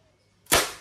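A Crosman MPW Bushmaster airgun fires a single sharp, close semi-automatic shot after a quiet moment, followed by a second crack at the very end.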